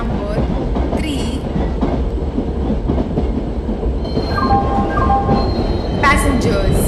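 Humsafar Superfast Express pulling into a platform in an Indian train simulator game, its wheels rumbling and clattering steadily with a squeal near the end, while a station announcement plays over it.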